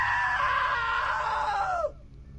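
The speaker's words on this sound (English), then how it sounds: "Now that was a great scream." A long, loud scream from the video game What Remains of Edith Finch, held steady for nearly two seconds before cutting off abruptly into a quiet tail.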